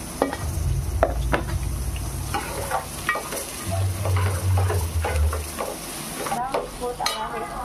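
Onion and chilli frying in a hot pan for spicy pav bhaji, a steady sizzle with occasional scraping stirs and clinks of a spatula, close and continuous.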